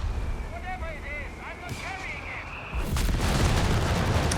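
A mortar shell explodes in Company of Heroes 3, a heavy broadband boom that bursts in near the end and sustains into a dense rumble, following a stretch of lighter battlefield noise with chirping tonal effects.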